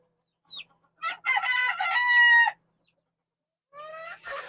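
Chickens on a farm cluck and a rooster crows nearby, with a short call, a long crow, then another crow after a quiet pause.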